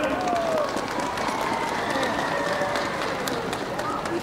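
A crowd at an aviation centenary ceremony in Bacău applauds, with sustained clapping and some murmur and faint voices mixed through the steady roar.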